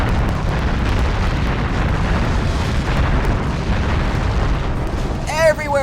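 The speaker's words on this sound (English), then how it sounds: "Everywhere explosions!" Explosions in the video game Hybrid Heaven: a dense, continuous barrage of booming blasts and rumble fills the scene, ending with a brief rising whistle-like sweep.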